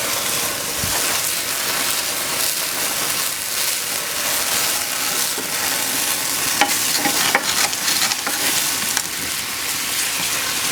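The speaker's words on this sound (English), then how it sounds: "I'm going to add the brandy and the cherries." Brandy and cherries hit a hot pan alongside goat chops, setting off a loud, steady sizzle with bubbling, spattering crackles that continue without a break.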